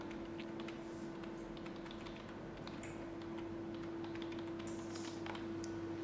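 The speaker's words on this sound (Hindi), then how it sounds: "तो मैं अपना ईमेल लिख रही हूँ" An email address being typed on a computer keyboard: soft, rapid key clicks, fairly faint, over a steady low electrical hum.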